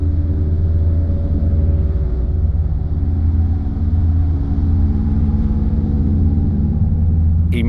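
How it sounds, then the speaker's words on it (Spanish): Armoured vehicles gather to cross the Ebro river, a steady loud low engine rumble and drone with layered motor hum that holds throughout without pause. "Van concentrándose los carros blindados para que, una vez instaladas las pasarelas y puentes,"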